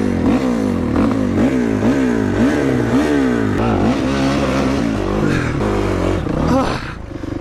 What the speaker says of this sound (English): I can't get my bike started